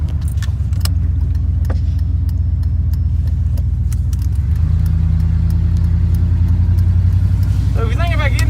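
A 1990s Chevy C/K1500 pickup drives up the road, its engine a steady close rumble inside the cab that rises in pitch partway through, with keys jangling throughout.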